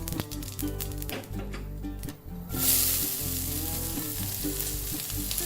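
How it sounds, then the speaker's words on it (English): Mustard seeds crackling in hot oil for an Indian vegetable stir fry, a constant hiss with scattered sharp pops that swells louder partway through, close up, with a steady musical bed underneath. "The mustard seeds are crackling."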